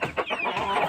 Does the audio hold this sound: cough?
no